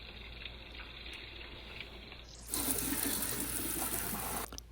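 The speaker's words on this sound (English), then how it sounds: "Let's just wash this okra very nice and clean." Okra being washed under a kitchen sink tap, a faint background hum giving way midway to a steady rushing gush of running water that cuts off abruptly near the end.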